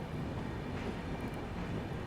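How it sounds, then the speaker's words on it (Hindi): Tirupati Raxaul Express arriving at a station, a steady broad rumble of the moving train with faint rail clatter, continuous and fairly distant. "तिरुपति रक्सौल एक्सप्रेस आ रही है।"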